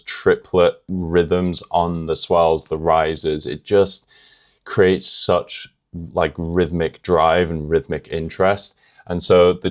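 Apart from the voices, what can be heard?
No everyday noises stand out.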